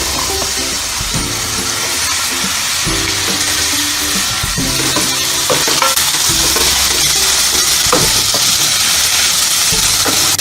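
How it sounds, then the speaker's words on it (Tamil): Vegetables for vegetable fried rice sizzle in a pan while they are stir-fried. The frying is steady and close, with repeated clanks and scrapes of a spatula against the metal. "நம்ம எல்லாத்தையுமே ஒன்றா போட்டு ஒரு பாதி அளவுக்கு வதக்கினா போதும்."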